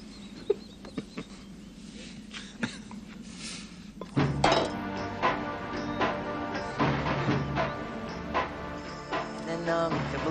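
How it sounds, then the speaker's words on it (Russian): Dishes being washed by hand, with pots, plates and cutlery clinking and knocking in a steady run of close, moderately loud clatter after a quieter start, with no talk. "Я не прочь помыть посуду."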